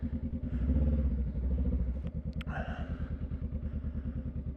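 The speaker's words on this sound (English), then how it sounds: "if you have a Honda like this, that a P-Twin that rattles a lot" A 2021 Honda Rebel 500 SE parallel-twin motorcycle engine running close by, with a steady, rapid throbbing pulse and a rattly, buzzing edge throughout.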